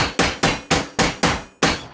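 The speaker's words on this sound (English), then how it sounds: "you just bash it all together with a hammer." Six sharp hammer blows strike at a steady rhythm while a build is bashed together, each hit loud and close with a short ringing decay, no voices present.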